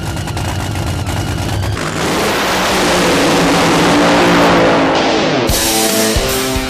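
A nitro-burning funny car drag racer roars past at full throttle, a dense, harsh, crackling engine blast swelling to a peak and then cutting abruptly, loud and close with no talk.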